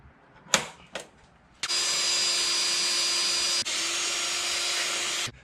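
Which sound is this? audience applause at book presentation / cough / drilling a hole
drilling a hole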